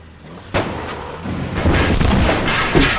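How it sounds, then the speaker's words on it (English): Mounted cannon on a lorry firing in Call of Duty 2: Big Red One, a sharp loud blast followed by rolling battle rumble and further distant booms, no speech. "We drive back to a different lorry with a mounted cannon"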